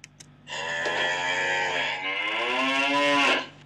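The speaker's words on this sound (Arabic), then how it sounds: "صوت البقرة" A cow lets out a long, loud moo that swells and shifts in pitch for about three seconds, close by and with no other sound.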